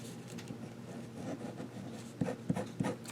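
A new Jet Pens pen, already inked, writes across cheap paper, giving a steady close scratching and scribbling with a few sharper strokes near the end, heard alone.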